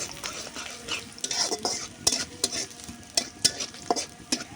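Onions fry in a pan on a new stove while a utensil stirs them, giving a steady sizzle broken by sharp scraping clicks at irregular intervals.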